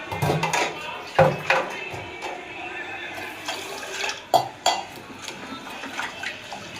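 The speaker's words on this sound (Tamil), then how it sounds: "ரெண்டு கைப்பொடி கடலப்பருப்பு வெ வெந்தயம் ஒன்றரை ஸ்பூன் இதெல்லாம் சேர்த்து தண்ணி ஊற்றி நல்லா கழுவி எடுத்துக்கலாம்" Split chickpeas and fenugreek seeds are washed in water, with sloshing, splashing and a few sharp clinks against the vessel, some louder bursts standing out, while a person speaks over the washing.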